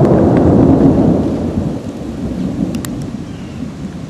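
Deep thunder rumbles from an approaching storm after a lightning flash, loud at first and then slowly fading, with faint rustling in the background.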